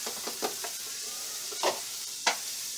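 Celery sizzling as it goes into a hot pot for Bahamian conch chowder, a steady frying hiss under a few soft stirring scrapes and clatters, close and moderately loud with no talking.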